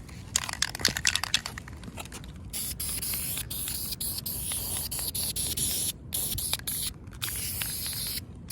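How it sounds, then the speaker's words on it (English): A car part being spray painted, with a close, steady aerosol hiss that runs almost continuously and cuts out briefly a few times. "I'm getting all types of overspray off everywhere."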